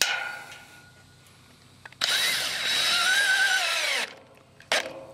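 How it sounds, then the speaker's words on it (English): A power drill whirs loudly for about two seconds, its pitch rising and falling as it drives a screw to fasten a brick tie, then gives a short second burst. "I screw the brick tie down"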